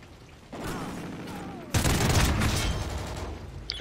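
Call of Duty Ghosts multiplayer gunfire comes in a short burst that is followed by a louder, sustained stretch of rapid automatic shots and impacts, close and harsh, with a sharp report near the end.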